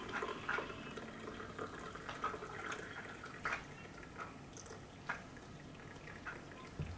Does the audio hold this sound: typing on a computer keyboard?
no